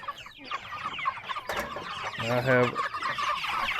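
Pastured meat chickens in a mobile chicken tractor cluck and chatter close by, a busy run of overlapping calls that grows a little louder toward the end, with a brief spoken remark mixed in.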